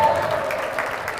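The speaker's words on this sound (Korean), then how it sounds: "박수 주세요" An audience at a university student speech busking event applauds as a business student is introduced, a brief burst of steady, moderately loud clapping with a faint voice mixed in.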